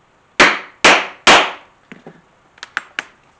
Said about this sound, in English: Here I pick up a hammer again.